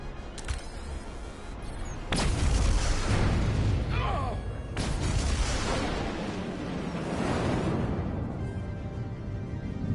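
Detonations in the video game Star Trek Resurgence, a sharp blast followed by a second heavy boom with rumbling aftermath and debris, loud and close, with brief game voices.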